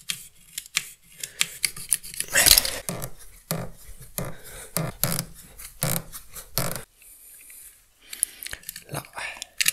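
Scissors snip through a brittle 25-year-old rubber hose on a Fiat Seicento 1.1 8V, a series of sharp close crunching cuts with short pauses between them.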